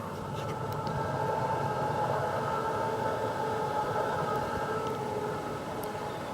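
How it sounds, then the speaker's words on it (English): A freight train rumbles steadily in a continuous dense roar with a faint high whine, sounding moderately distant and unbroken throughout. "There is the freight train"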